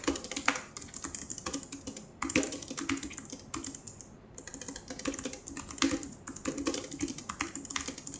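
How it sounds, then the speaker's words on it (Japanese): Clicky-switch typing on a Mistel AIRONE low-profile compact keyboard with internal dampening foam: a steady, continuous run of crisp key clicks at moderate loudness, close up, with no one talking. "クリックタイプの打鍵音はこんな感じです。"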